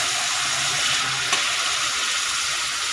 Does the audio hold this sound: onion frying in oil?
yes